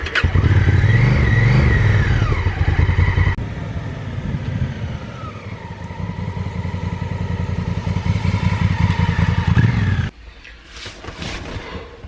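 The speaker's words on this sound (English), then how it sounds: "back from Randy riding the Africa Twin" A Honda Africa Twin motorcycle roars past close by, its engine revving and shifting pitch as it accelerates, then the loud drone drops away abruptly into quieter road and wind noise.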